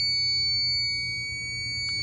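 A DSC Neo alarm system sounds during a test with a steady, piercing high-pitched tone held continuously, loud and close, over low background hum.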